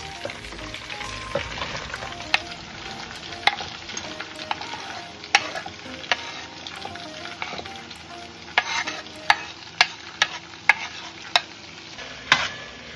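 Onions, garlic and Irish potato frying in a pan for Jamaican curry shrimp, a steady close sizzle broken by sharp scraping clicks of a spoon stirring, with no talk.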